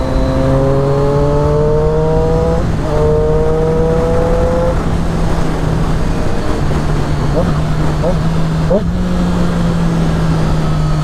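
A Triumph Daytona 675 with an SC Project exhaust accelerates hard through three gears, its loud, close engine note climbing steeply and then dropping sharply at each shift.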